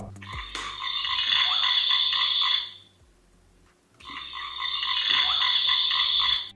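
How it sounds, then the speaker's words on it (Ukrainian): A baby's musical activity-table toy book plays electronic frog croaking as its pages turn, two loud sustained bursts with a short quiet gap between them and no voices. "Книга при перегортанні активує звуки цвіркунів та жаб."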